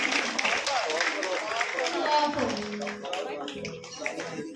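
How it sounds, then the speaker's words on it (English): Clapping and crowd noise rise at a school awards ceremony in Hyderabad as a student is called up to receive a memento, mixed with steady talking voices and hall murmur throughout. "Give a round of applause."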